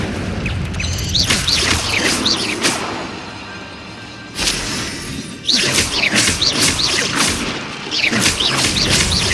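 In Hogwarts Legacy, the Incendio fire spell is cast repeatedly, giving loud bursts of booming, crackling impact and whooshing sounds with brief swells and dips between casts.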